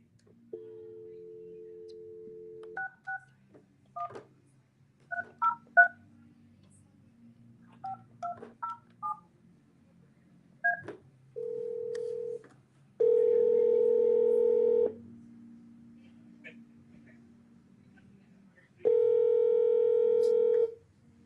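Telephone keypad tones beep in quick irregular bursts of dialing, then steady ringback tones sound in long separate pulses as an outgoing call connects, all clear and close with no voices.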